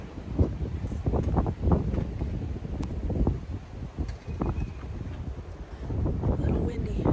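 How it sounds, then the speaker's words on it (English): Gusty wind buffets the microphone outdoors in the sun in rumbling bursts, rising and falling irregularly throughout, with faint rustling beneath. "A little windy."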